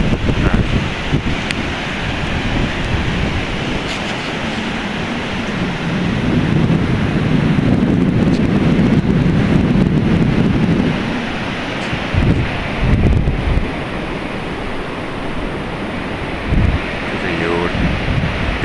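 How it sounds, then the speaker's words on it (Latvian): Sea waves crash and wind roars at night during a storm, a heavy rushing mix with surging swells of surf and buffeting gusts hitting the microphone, loud and continuous. "Nekādi jūri tikai var dzirdēt."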